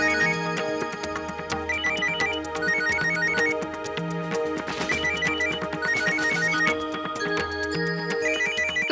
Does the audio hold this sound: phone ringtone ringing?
yes